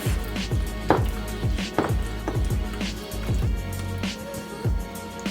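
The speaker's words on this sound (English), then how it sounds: "So I'm just gonna go and give it a nice swirl. Just break up that cream cheese" A rubber spatula mixes and breaks up stiff cream cheese in a bowl for a lobster and shrimp dip, making repeated close, thumping squishy strokes in a loose rhythm, with no talking.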